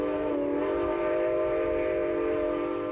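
A steam train runs with a sustained whistle tone over a steady low chugging rumble, loud and continuous.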